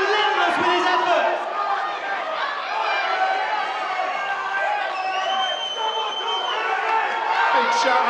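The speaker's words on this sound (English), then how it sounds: "we can apologise if you're picking up some audio from the fans behind us" Crowd of fans at a white-collar boxing fight in Dubai, a dense roar of chatter and shouting with occasional whoops rising over it, continuous and fairly close.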